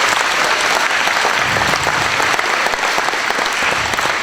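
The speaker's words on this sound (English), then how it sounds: "if you give them a good round of applause for their effort" Applause from a school concert audience after a grade 3–5 student performance, a dense, steady roar of many hands clapping that holds loud and even throughout.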